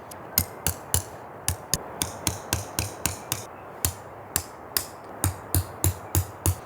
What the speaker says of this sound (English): Now the ground is frozen, so I'm going to have to use a big hammer.